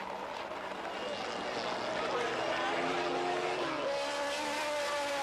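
A Guinness-liveried Mazda RX3 race car drives around the Bushy Park circuit in Barbados, its engine a loud, continuous roar with shifting pitch near the end. A commentator talks over it the whole time.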